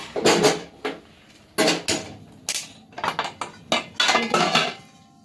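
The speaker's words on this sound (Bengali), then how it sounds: "কড়াইটা বসিয়ে দিই।" A metal wok is set on a stove amid a series of close, loud metallic clanks and clatters of pots and utensils, arriving in irregular bursts with quiet gaps between them.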